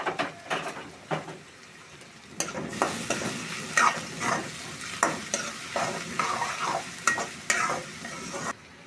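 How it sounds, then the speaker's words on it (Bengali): Onions and green chillies frying in oil for an okra dish, with repeated scraping stirs of a spatula in the pan over a close, crackling sizzle. "পেঁয়াজ ভাজা ভাজা হয়ে গেছে"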